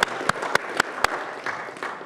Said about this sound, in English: Could you give her a round of applause?